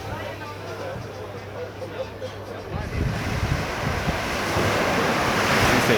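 Surf rolls steadily onto a beach on the west coast of Barbados, a continuous ocean wash that swells louder toward the end, with wind buffeting the microphone.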